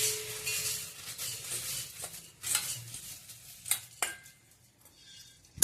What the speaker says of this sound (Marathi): आता हे चिरमुरे आपण आहेत ते ह्यात घेऊया